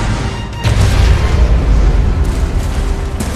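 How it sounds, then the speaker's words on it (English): A nuclear weapon detonates in the Cabals video game, a loud, deep, sustained boom that swells and rumbles on without pause, close and dominant. "Nuclear weapon launched."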